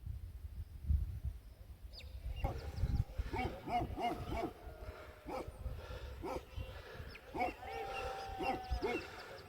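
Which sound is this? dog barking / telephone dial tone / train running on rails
dog barking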